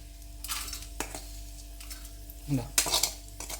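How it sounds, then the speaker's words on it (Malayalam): Chili peppers fry in a pan, browning, while a spatula stirs and clinks against the metal in a few sharp scrapes and taps over a faint, low sizzle. "നല്ല ബ്രൗൺ കളറിൽ നന്നായി ഫ്രൈ ആയി വന്നിട്ടുണ്ട്"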